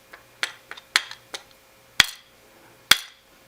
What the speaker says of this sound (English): If you hear that, that's the clamp hitting the base from how it can flex.